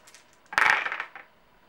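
Four dice rolled for a skill test in an Eldritch Horror board game, heard as one short rattling clatter on a table that fades after about half a second, with no talking.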